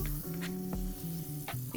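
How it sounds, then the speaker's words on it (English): Onigiri coated in a soy sauce, maple syrup and gochujang glaze sizzle in a hot pan, a soft, close crackling hiss with a few brief spits, and no talking. "Flip it over, listen to that sizzle."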